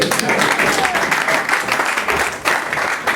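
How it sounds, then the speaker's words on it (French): Dense applause from an audience at a comedy festival show in Goma, a steady close wash of clapping that runs the whole time with a brief dip near the end. "On voulait applaudir, donc on applaudit."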